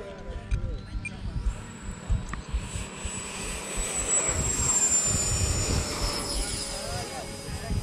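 A Freewing Mirage RC model jet takes off, its thin electric ducted-fan whine rising in pitch and building over a few seconds while people talk nearby.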